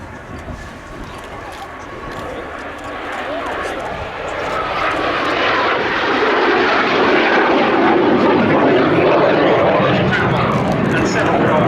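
A Jet Provost jet trainer flies past at an air festival, its broad engine roar swelling steadily from moderate to loud and holding at full strength as it nears.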